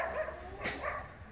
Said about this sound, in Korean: 응, 강아지네, 강아지. 엄청 지저대는데요